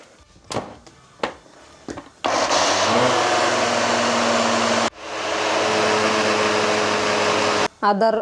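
A blender grinds soaked rice for Eid handesh batter in two loud, steady whirring runs of about two to three seconds each. Brief knocks and clatter come before the first run.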